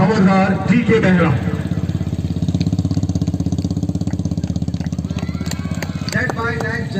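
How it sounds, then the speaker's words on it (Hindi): Motorcycle engines of the Indian Army Daredevils stunt riders at a display throb loudly and steadily at idle and low revs, with a commentator speaking over the noise at the start and near the end. "ये जब तक गाड़ियों की आवाज गूंजेगी ना इस वादियों में"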